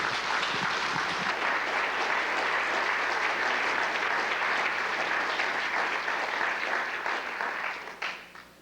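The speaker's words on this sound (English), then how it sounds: "I hope that you will support that with your applause as he comes forward" Sustained applause from a lecture audience welcoming a speaker, broad and dense throughout and fading out near the end.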